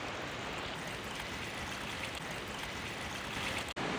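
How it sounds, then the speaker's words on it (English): A small forest stream trickles out of rock cracks on a mountain gorge trail, giving a steady, even, close wash of flowing water with no pauses, apart from one short dropout near the end. "Here's a cool little stream. It is flowing right out of the cracks in the rocks here."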